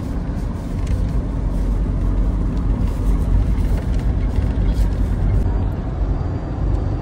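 A truck hauls a huge wind turbine blade along a highway, heard as a steady, loud, low traffic rumble with wind noise that runs unbroken throughout.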